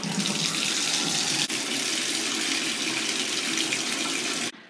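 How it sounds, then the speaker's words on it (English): Bathtub tap running steadily to fill a bubble bath, a loud continuous rushing gush of water that holds evenly for several seconds, with a brief dip partway through, before cutting off abruptly near the end. "now I'm going to run myself a bubble bath"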